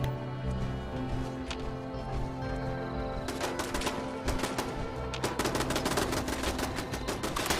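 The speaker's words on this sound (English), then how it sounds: "The turrets are shooting nothing." Turrets in the video game Fallout 76 fire rapid, crackling bursts of gunshots, moderately loud and getting denser toward the end, over steady ambient background noise.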